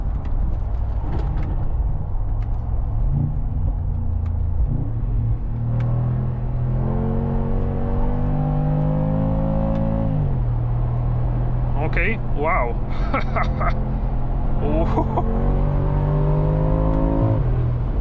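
A 2025 Mercedes-AMG G63 in Sport+ mode accelerates hard, its engine note climbing in steady rising sweeps through several gears, loud and continuous from inside the cabin, with a man's brief excited exclamations over it.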